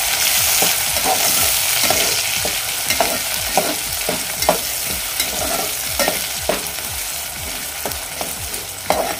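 Tomatoes sauté with golden-brown onions in a pan for a rice dish with bombil fish, a constant sizzle broken by a steady run of rhythmic spatula scrapes and taps.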